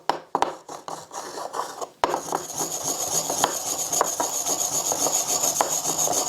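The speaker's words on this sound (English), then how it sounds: "this is the grinding stone where you prepare the ink" A Chinese ink stick is ground against a wet grinding stone in a close, continuous scraping rub, starting with a few separate strokes and then settling into a steady back-and-forth rasp.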